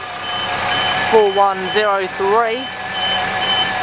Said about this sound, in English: the beeping noise indicates the bollards are heading down